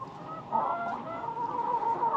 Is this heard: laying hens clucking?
yes